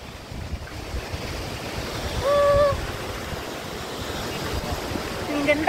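Steady wind gusting near Wulai Falls in Taiwan, a broad rushing roar buffeting the microphone throughout, with a brief voice heard faintly partway through.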